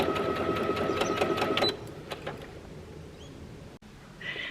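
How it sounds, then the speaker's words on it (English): A sewing machine fitted with a blind hem foot stitches along the edge of a fabric casing for a shirt, running in a steady rapid whir for under two seconds, then stopping, with a few faint clicks and handling sounds afterward. "I'll just show you how that foot and that guide works, keeping as close to the edge as possible with the stitching"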